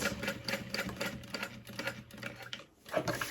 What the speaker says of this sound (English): we're top stitching 1/8 of an inch from the folded edge to create that